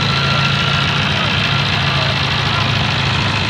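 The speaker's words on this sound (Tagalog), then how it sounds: "Nag-iba tunog ng makina mo oh." Toyota Corolla engine idling after its battery was charged, a steady close rumble with faint knocking, running continuously and loudly throughout.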